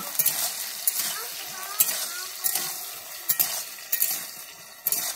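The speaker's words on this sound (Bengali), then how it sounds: "দিয়ে আমি আলুটাকে এবারে লাল করে ভেজে নেব।" Salted potatoes fry until browned in a pan, with a steady sizzle and hiss broken by regular clinks and scrapes of a utensil stirring against the metal.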